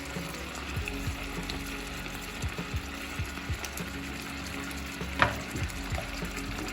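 Onion and canned meat stirred together in a pan, for quick beshbarmak: a low crackle of frying under a series of soft rhythmic scrapes and knocks from the stirring, with one louder clink near the end, no talking.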